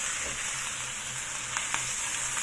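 Chicken liver sizzles steadily in a frying pan, a dense continuous crackle with a few sharper pops near the end, close and fairly loud with no talking.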